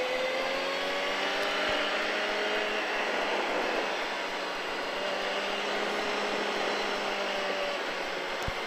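Motorcycle accelerating on the Le Vigeant race track, a continuous engine roar that rises in pitch, steady and fairly loud, with no talking.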